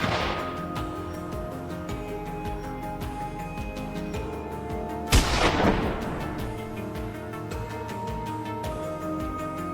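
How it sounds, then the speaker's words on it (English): A single sharp gunshot aimed at a wild boar on a dry grassy hillside cracks out midway, loud and close, with a short decaying tail over a steady low background hum. "a gunshot rang out"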